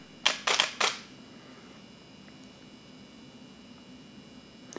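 A camera shutter fires three quick, crisp clicks in a tight burst near the start, close and clear over a faint steady hiss, followed by near silence.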